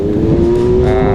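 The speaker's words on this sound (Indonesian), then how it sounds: "Itu suara motor apa tuh? Ya, Kawasaki Ninja" A Kawasaki Ninja motorcycle engine drones steadily at close range with an even, sustained hum outdoors near a cemetery, loud and uninterrupted throughout, with no voices.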